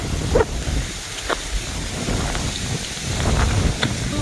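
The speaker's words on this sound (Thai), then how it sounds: "ลมแรงๆ" Strong wind buffets the microphone outdoors on sugarcane farmland in rural Thailand, a continuous rough roar with gusty swells and a few brief thumps, heard alone.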